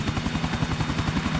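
Helicopter in the GTA 4 video game, a steady, loud rotor chop with fast even blade pulses and a constant engine whine, close and alone.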